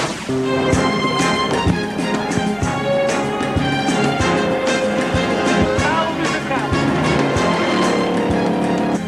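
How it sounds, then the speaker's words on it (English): Bowler Nemesis rally car at the Dakar Rally, a loud continuous engine roar with rising and falling pitch and clattering bumps throughout, with talk mixed in. "We are driving with the bowler Nemesis."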